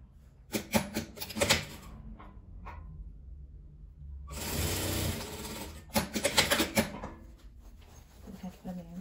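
A sewing machine stitches an opening closed on a crochet needle case, running in bursts of rapid mechanical clatter with pauses between, close and moderately loud, with a voice heard talking at times.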